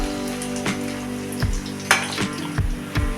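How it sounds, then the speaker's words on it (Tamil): Cassava bondas deep-fry in hot oil and get turned repeatedly, a soft bubbling sizzle broken by a few sharper clatters and splashes, fairly quiet with no talking. "நல்லா கோல்டன் கலர் வர வரைக்கும் திருப்பி திருப்பி விட்டு பொரிச்சிக்கங்க."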